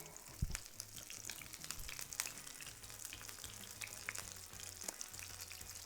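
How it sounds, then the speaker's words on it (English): Soft, steady sizzling and crackling of cottage cheese pancakes frying in hot oil, fairly quiet and close, with scattered small pops. "So you hear that sizzling, that oil is cooking the edges."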